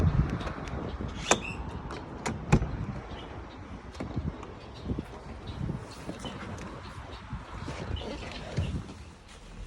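Door locks clicking as a banged-up 2003 Mercedes C240 is unlocked with its key, giving a few sharp, close mechanical clicks and clunks over a steady outdoor background hiss.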